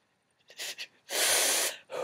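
Two short bursts of breathy sound followed by a longer, harsh forced exhale, close and fairly loud, like a cough in a quiet room.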